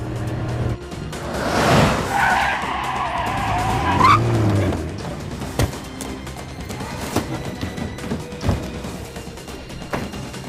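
In the video game Splinter Cell Pandora Tomorrow, a cargo truck pulls up with a loud tire skid and squealing brakes that lasts about two seconds. A low engine rumble and scattered clunks follow.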